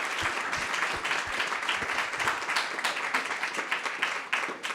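Audience applause for the panelists at a health emergency preparedness panel session, a steady wash of many hands clapping at moderate volume throughout, with no voices over it.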